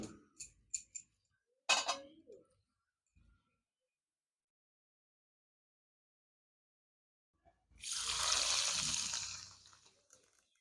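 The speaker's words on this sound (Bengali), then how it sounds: "আমি পুরো তেলটাই ঢেলে দিচ্ছি।" Oil poured into raw mango pickle gives a soft gurgling, splashing pour of about three seconds near the end, after a few short scattered clinks and knocks.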